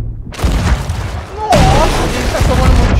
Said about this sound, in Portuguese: Nossa, a gente tá tomando muito tiro, velho.